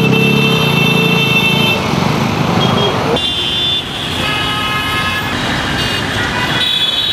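Vehicle horns honk repeatedly in busy road traffic at Koteshwor, Kathmandu, with overlapping toots of different pitches over a continuous rumble of passing cars and trucks.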